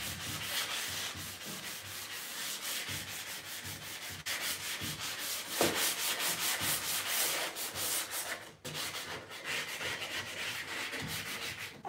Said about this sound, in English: I'm really happy with the sanding